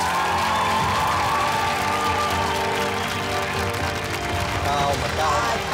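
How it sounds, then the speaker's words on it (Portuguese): An audience claps and cheers for a young singer on a televised kids' singing competition stage, dense sustained applause with whoops rising over it, loud and unbroken. "Estas pessoas estão todas a aplaudir-te a ti."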